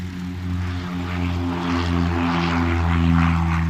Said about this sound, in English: That plane that just took off.